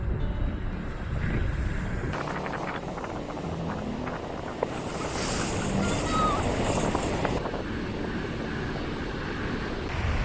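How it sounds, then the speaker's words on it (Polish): Heavy Baltic Sea surf crashes and roars on a beach on the Hel Peninsula, Poland, amid strong, gusting wind buffeting the microphone, a loud continuous wash of noise with swells rising and falling. "morze rozbujało się na maksa"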